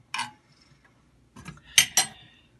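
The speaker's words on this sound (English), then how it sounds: "I've got the sugar, which I'm just going to stir around a little bit" A spoon clinks against a bowl while sugar is stirred for a strawberry sauce, a few sharp, close metallic taps with short pauses between them.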